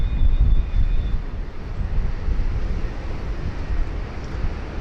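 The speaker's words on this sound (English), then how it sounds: "The Link Airways Saab 340 rolling there on 16 right" A Link Airways Saab 340 turboprop rolls down runway 16 right at Sydney Airport, a steady broadband roar of engines and rushing air heard from a distance, with slight wind buffeting on the microphone.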